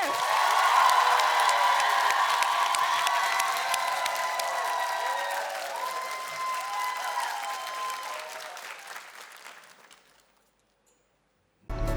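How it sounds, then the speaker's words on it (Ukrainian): A studio audience on a Ukrainian televised singing contest stage bursts into loud, dense applause with scattered cheers as a singer is welcomed, holding steady for about ten seconds before quickly dying away to near silence. "Під оплески!"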